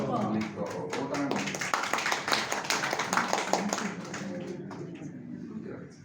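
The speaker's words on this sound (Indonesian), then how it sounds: "Tepuk tangan." Hands clap in a quick, dense patter at a communal fast-breaking gathering, steady for several seconds and thinning toward the end, with voices talking over it.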